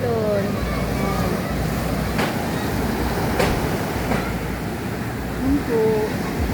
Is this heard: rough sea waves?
yes